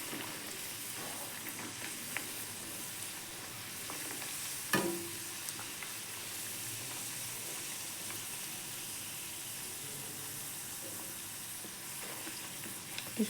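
Food deep-frying in oil for a winter night recipe gives a soft, continuous sizzle with occasional stirring clicks and one sharper clatter, quiet and close with no talk.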